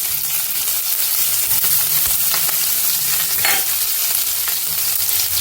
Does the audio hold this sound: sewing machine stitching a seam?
no